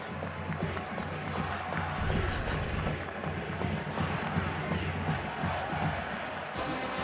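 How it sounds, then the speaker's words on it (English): Murmuring crowd noise fills a football stadium in South Bend during a Pittsburgh at Notre Dame game, a broad, steady roar that holds for the whole stretch without sharp peaks. "a stunned crowd here in South Bend"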